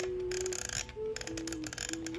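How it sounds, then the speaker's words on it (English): The film wheel on a Kodak Tri-X single-use 35mm camera is wound, producing bursts of rapid, close ratcheting clicks with short pauses between turns. "you will simply wind your film"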